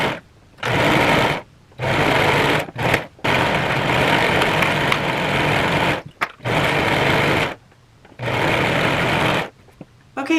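Sewing machine running a seam on a sweater in several separate bursts of steady whirring stitching, broken by short silent pauses between runs.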